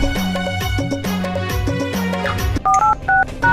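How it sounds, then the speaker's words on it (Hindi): Telephone dialing: a close, loud run of rapid keypad tones in rhythmic bursts, followed by a few distinct, evenly spaced beeps, with background music underneath. "साढ़ू ले फोन लगा ले।"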